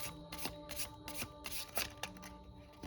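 Cards are shuffled in a rapid series of crisp riffles and flutters, close up, several bursts in quick succession with no voices.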